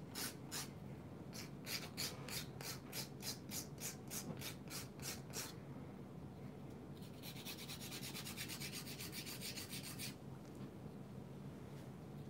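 A nail file rasps gently across a glitter polygel stiletto nail that has lifted from a peel-off base coat. It makes a run of quick, evenly spaced scratchy strokes, then a denser burst of faster filing, close and soft.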